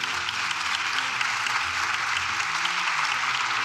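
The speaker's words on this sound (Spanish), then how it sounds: "Aplauso un poco forzado aquí, si me preguntáis." Sustained applause fills a parliamentary chamber after a speech on a European defence plan, a dense even patter of many hands clapping at a steady level throughout.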